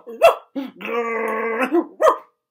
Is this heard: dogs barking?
yes